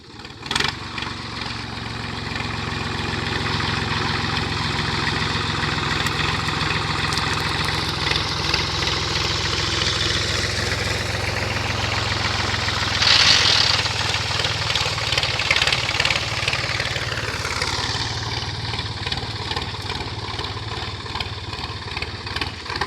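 A tractor engine runs steadily at a farm well while a burnt-out open-well motor is hauled up, a continuous mid-pitched drone that rises and falls slightly in revs, close and with no talk.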